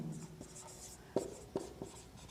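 Chalk or pen writing on a board during a maths lesson, a run of light scratchy strokes with a few sharper taps near the middle, fairly close, with no one speaking.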